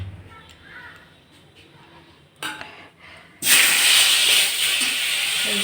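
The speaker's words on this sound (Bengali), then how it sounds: "তা আমি মাছটা এবার তেলের পরে দিয়ে দেব।" Rohu fish lowered into hot oil in a home kitchen pan sets off a sudden loud, steady sizzle that continues to the end, after a quiet stretch with a brief clatter.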